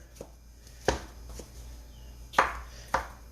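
A knife chops food on a cutting board during home cooking: about five sharp, irregularly spaced cuts, close and clear against a quiet room.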